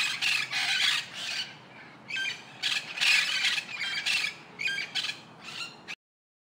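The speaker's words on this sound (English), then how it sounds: "P for parrot." A parrot squawks in a series of harsh, shrill bursts, about a dozen loud calls in an uneven rhythm, close and clear with no talking, ending abruptly.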